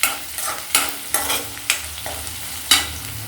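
Avarekalu field beans fry in a pan for uppittu, with a steady soft sizzle and about half a dozen sharp scraping stirs at irregular intervals, close and moderately loud with no talking.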